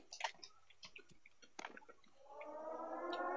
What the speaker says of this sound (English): What's up with those sirens?